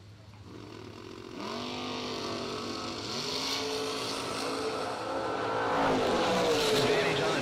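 A 1978 Camaro and a 2006 topless Corvette launch in a drag race, engines roaring and rising in pitch through gear changes, loud and continuous with a race announcer talking over the noise.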